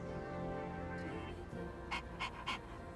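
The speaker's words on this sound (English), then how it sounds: "Pretty cute dog." Koromaru, a dog in the role-playing game Persona 3 Reload, pants in three short, soft breathy puffs near the end, set against a steady bed of background music.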